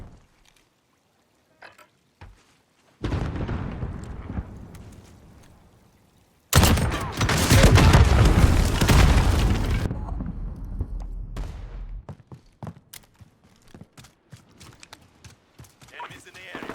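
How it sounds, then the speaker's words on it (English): Cruise missile strikes in Modern Warfare on a sawmill map: a heavy rumbling burst, then a second louder, longer blast roaring for several seconds before fading into scattered clicks and distant gunfire pops. "Cruise missile ready."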